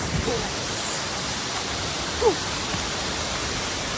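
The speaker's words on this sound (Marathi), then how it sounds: "आज छोटा वॉटरफॉल आहे तिकडे मोठा बोलतायत" Continuous broadband rush of a small waterfall near Khopoli, steady and moderately loud, with a brief faint vocal sound partway through.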